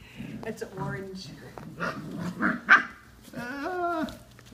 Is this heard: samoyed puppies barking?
yes